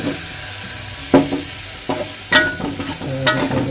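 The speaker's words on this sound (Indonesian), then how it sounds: "kita aduk-aduk lagi ya" Bean sprouts and chili paste are stirred in a sizzling wok. Several scrapes and clanks of the spatula come at irregular intervals over a constant frying hiss.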